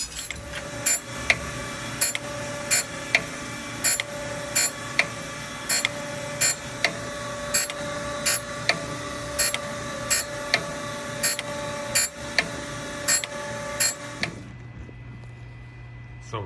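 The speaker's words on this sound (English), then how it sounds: "I'm going to take it to the surface grinder now and just grind top and bottom" A surface grinder works a knife blade flat on top and bottom, giving a steady mechanical whine with regular rhythmic ticks repeating about every second, running close and loud before cutting off near the end.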